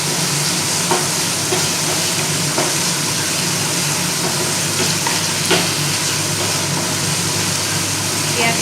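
Onion and mixed vegetables fry in a pan for egg chilli, making a constant, fairly loud sizzle with occasional stirring scrapes and no voices on top.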